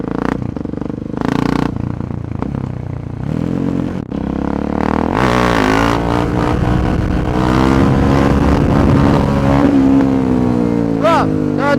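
A Husqvarna 701 motorcycle ridden hard and doing wheelies, its engine revving up and down in loud, rising sweeps close by, with people talking at times.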